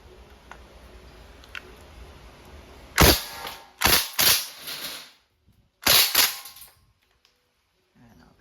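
A KWC blowback airgun submachine gun fires several short full-auto bursts, loud sharp rattling volleys with brief pauses between them, following quiet handling noises.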